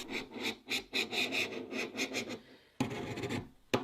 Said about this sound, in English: reaming the holes and pressing in a bearing